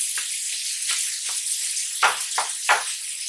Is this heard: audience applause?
no